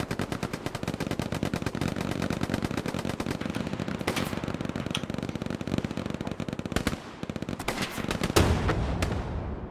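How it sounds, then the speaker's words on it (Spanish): Rapid bursts of gunfire, a dense rattle of automatic shots with a few louder single cracks, continuous and loud throughout. "¿De dónde se han venido los tiros?"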